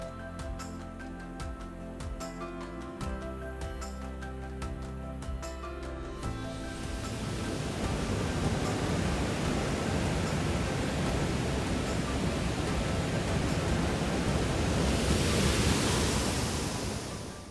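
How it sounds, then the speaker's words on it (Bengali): Rushing water pours steadily and fills the air, growing louder after the first few seconds as a small waterfall in the Ajodhya Hills of Purulia comes close. "এই হচ্ছে পৃথিবীর ঝর্ণা"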